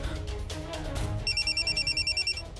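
A telephone rings in a steady, repeating electronic pattern of short bursts, heard over music and a murmur of background sound in a Hindi TV drama scene, with the call left unanswered.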